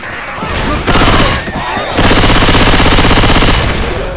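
Rapid automatic gunfire from a first-person shooter, Team Fortress 2 or Left 4 Dead 2, played on an Apple Silicon Mac. Loud, dense bursts arrive in two main stretches separated by a brief lull, with heavy continuous firing for the last two seconds.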